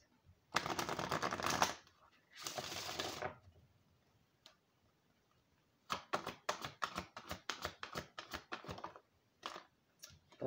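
Tarot cards being bridge shuffled by hand, crisp flurries of riffling card flicks in two long bursts, then a quieter pause and a run of sharper snapping taps and clicks, close up.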